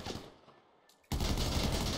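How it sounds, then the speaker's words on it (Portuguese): Gunfire in GTA V, a shootout at an abandoned hotel: a brief burst of shots at the start, then a quieter gap, then dense, loud sustained fusillade crashing in for the last second. "Tem alguém atirando em mim lá de baixo."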